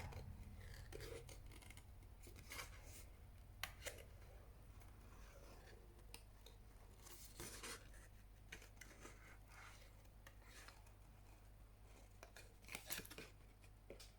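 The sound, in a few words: precision scissors cutting paper for a 3D card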